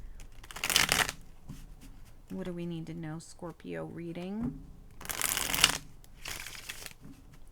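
Tarot cards shuffled in bursts for a Scorpio reading, a crisp riffling flurry at the start and another mid-clip, with a person speaking in between.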